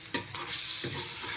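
A spatula stirs cauliflower and egg frying in a pan, two quick scraping strokes over a soft steady sizzle, close and short.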